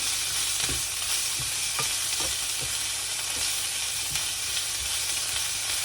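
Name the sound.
onions with salt being sauteed in pan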